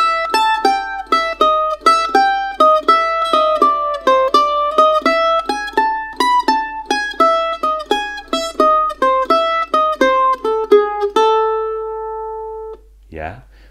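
Bluegrass mandolin phrases starting from C, played as a run of quick plucked notes with steady rhythm that rings out on a sustained final note, then a brief soft knock at the end.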